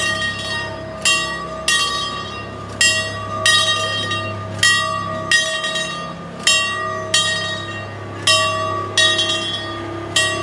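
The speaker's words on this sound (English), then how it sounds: "Sounds like they've already fixed their original bells." Bells on an amusement park train ride at Six Flags Great America ring out in a steady, repeating pattern, each strike sharp and bright with a lingering ring, over a low continuous rumble of the moving train.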